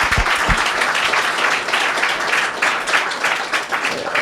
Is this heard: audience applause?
yes